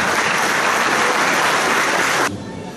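Loud applause from a crowd at a teachers' day breakfast gathering, steady dense clapping for over two seconds before cutting down to a softer room tail.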